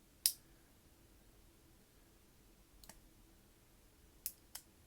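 A Leatherman multi-tool's small scissors clicking, a few sharp isolated snips spaced apart in a quiet room, one crisp click at the start and a couple more near the end.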